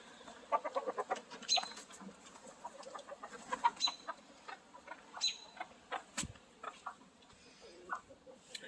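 Chickens cluck and chirp in quick, scattered bursts, fairly faint, with a few sharp higher squeaks and one brief thump partway through.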